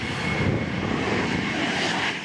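Fighter jets, including an F-16 and a Tejas, roar overhead in a steady, loud, broadband engine rumble that holds without pause.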